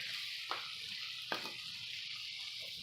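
Flour fries in grease on a Volgelzang box stove, a steady, soft sizzle with two brief scraping swishes as it is stirred, close by and with no talk.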